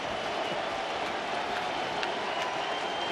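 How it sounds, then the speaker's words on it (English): A stadium crowd at a Cubs–Reds baseball game keeps up a steady, dense roar of cheering and murmur, waiting on the final out. "this is now the crowd anticipating the final out"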